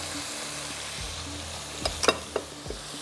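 Chopped onion frying lightly in butter in a pan for rice: a soft steady sizzle with a few scrapes and clinks of a spoon near the end, no talk.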